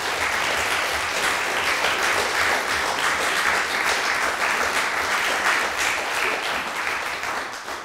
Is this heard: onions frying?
no